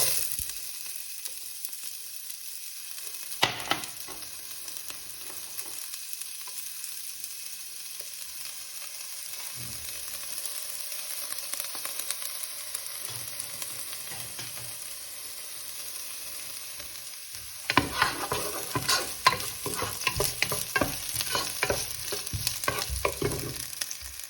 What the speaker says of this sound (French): l'huile est suffisamment chaude pour qu'on puisse ajouter les oignons coupés en petits morceaux